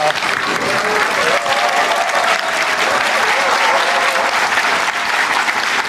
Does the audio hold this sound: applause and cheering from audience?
yes